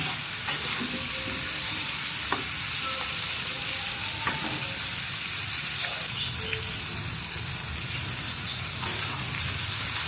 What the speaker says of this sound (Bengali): পেঁয়াজ সাথে আমি কিছুক্ষণ ভাজব ভালোভাবে একদম লাল লাল করে ভেজে নিব